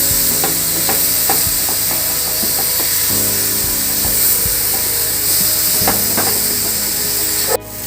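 A spoon stirs thick mango ladoo mixture with coconut powder and cucumber seeds in a pan. Close scraping and soft repeated knocks ride over a steady background hum, with no talking.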